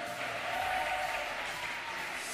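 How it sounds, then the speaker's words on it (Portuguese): An audience at a student welcome show claps for a newcomer named Yasmin, a steady, moderately distant wash of applause throughout. "Uma salva de palmas aí pra Yasmin,"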